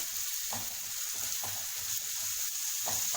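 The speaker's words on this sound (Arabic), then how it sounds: "اقلبهم كده كويس مع بعض" Lentils stirred and dried in a pan with fried onion and garlic for Egyptian koshari, giving a steady close sizzle with soft rhythmic scraping strokes of the spoon.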